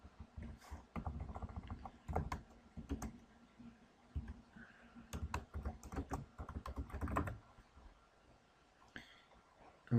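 A password is typed on a computer keyboard in short bursts of quick, close, quiet key clicks separated by brief pauses.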